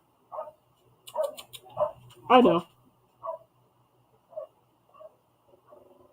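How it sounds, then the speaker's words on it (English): Two puppies outside bark in short, separate yips and barks at the neighbour's dog, faint and spaced out, with one louder burst and a brief spoken remark nearby. "the two puppies on the outside, aka his children, are carrying on at the dog next door"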